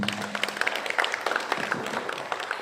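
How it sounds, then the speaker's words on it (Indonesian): An audience at a church event for the Redemptor Mundi Catholic parish applauds in a fairly quiet stretch of scattered claps, with a faint voice near the start. "Tepuk tangan untuk Redemptor Mundi."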